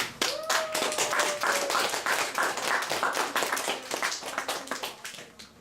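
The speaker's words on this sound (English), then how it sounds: "Let's give Duke a round of applause." Children and adults in an audience clap steadily for a puppet show hero, a dense burst of close applause lasting several seconds, with a whistle-like tone near the start and slight tapering at the end.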